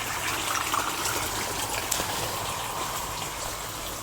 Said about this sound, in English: rain water, and it's flowing along